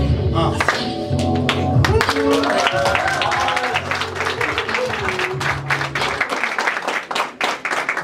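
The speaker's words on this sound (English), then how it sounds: "Clap, clap, clap for me." Audience clapping at a leadership program kick-off event, a dense steady patter of many hands mixed with music and voices, loud and continuous throughout.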